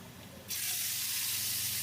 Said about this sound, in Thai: ตามด้วยเลือดไก่ลงไปได้เลยครับ